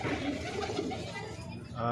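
Low, rolling coos of a black flock of Rajshahi Giribaz pigeons murmur steadily close by as someone talks over them.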